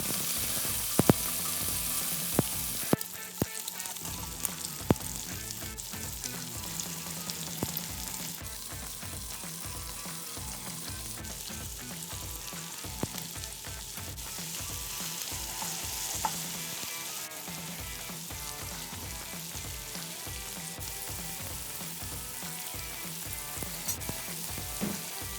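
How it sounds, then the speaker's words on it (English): Bacon, callaloo and saltfish sauté together in a pan for a Jamaican quiche filling, giving a steady bright sizzle with repeated stirring scrapes throughout, close and continuous, with no talk. "Add your bacon to a pan and let's get ready to saute all these ingredients together."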